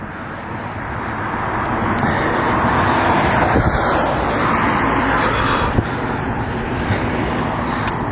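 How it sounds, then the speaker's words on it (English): A white Mini Cooper pulls out of an apartment complex onto a residential street, its engine a steady, fairly distant hum within broad outdoor traffic noise and no talking. "a white Mini Cooper coming out of the Met complex off my street"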